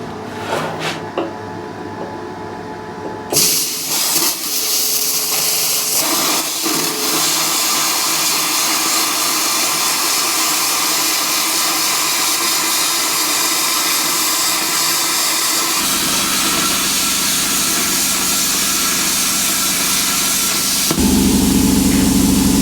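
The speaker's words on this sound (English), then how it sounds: "let's cut it out, because the plasma cutter don't make much noise" A plasma cutter slices through steel plate while a blacksmith's forge is being built, giving a steady loud hiss and roar that runs almost without a break for the whole span and ends in a brief stronger burst.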